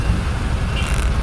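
Road traffic in a congested street, a low steady rumble of engines and passing vehicles filling the short stretch.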